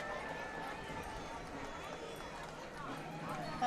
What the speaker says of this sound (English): Including a stage horse-drawn carriage.